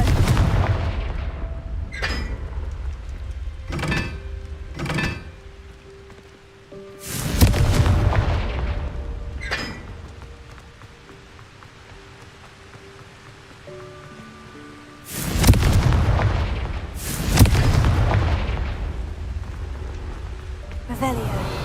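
Repeated Confringo blasting-spell explosions in Hogwarts Legacy, loud booming bursts arriving in uneven clusters with sharp cracks between them, separated by a low rumbling game ambience.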